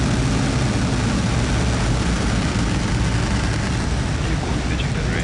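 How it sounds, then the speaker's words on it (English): A SpaceX rocket ignites and lifts off from Florida carrying a SiriusXM satellite, a dense continuous roar that fills the whole stretch at full loudness without letting up. "Ignition. And liftoff. Go SpaceX, go SiriusXM."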